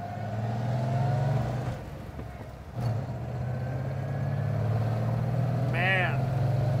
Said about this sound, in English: Pulling hard, that little Flathead V8.